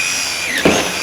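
A Festool TI15 impact drill driver bores a 1/2 inch hole in moist wood, a steady high-pitched whine with a brief louder bite near the end, close and alone.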